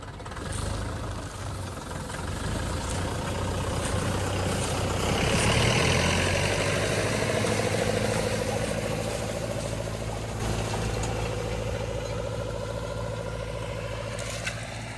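A tractor pulls a mounted 1.8 m disc harrow through dry soybean stubble, its engine droning steadily and close with a low rumble and rising mid-pitched tone as the discs cut the ground throughout.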